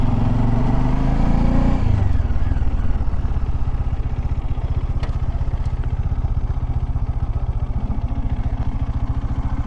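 A motorcycle rides along a forest track, its engine a steady, throbbing rumble close by that settles after an early surge, with some clatter and no talk.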